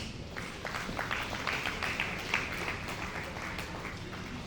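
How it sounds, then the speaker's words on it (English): Applause for a speaker at a surveyors' association luncheon in Nigeria, a steady moderate patter of many hands clapping without voices. "I think he deserves some applause"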